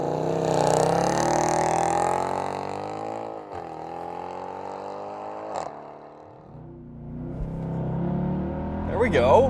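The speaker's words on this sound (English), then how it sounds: "switch it to RS, paddle up to confirm, race start, depress gas pedal" A 2011 Mercedes E63 AMG with the 6.2-litre V8 launching under launch control, a loud, deep engine roar climbing steadily, a brief dip at a gear change, then pulling hard again, heard close from inside the car.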